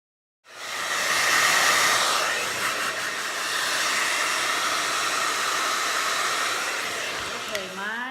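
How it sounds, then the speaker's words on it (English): A hair dryer blows steadily and loudly while hair is dried, a continuous broadband whoosh that wavers slightly in pitch, with a few faint handling clicks near the end. "You're gonna want to dry your hair, and sometimes as you're drying your hair,"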